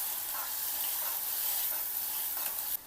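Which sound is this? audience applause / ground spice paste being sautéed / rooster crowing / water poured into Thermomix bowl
ground spice paste being sautéed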